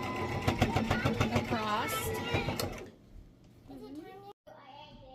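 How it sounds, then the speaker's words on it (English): A sewing machine stitches fabric with a fast, rhythmic mechanical whir, loud at first and then stopping, while a person talks briefly over and after it. "Then I'm just going to stitch"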